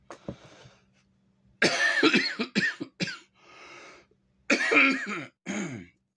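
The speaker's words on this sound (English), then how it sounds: "My God, this cough doesn't go away." Several harsh coughing bursts from a man in clusters, close and loud, separated by short pauses with a quieter breathy rasp between them.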